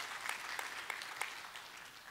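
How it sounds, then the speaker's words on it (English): Applause from a church congregation, a steady patter of many hands clapping at moderate volume, continuing evenly for about two seconds. "I think the under 25ers can clap on that one."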